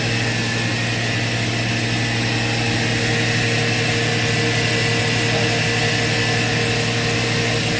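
A 1998 Haas VF-6/50 CNC machine spindle runs at speed, a steady, continuous broadband whir with constant tonal hum, loud and unchanging throughout, no voices.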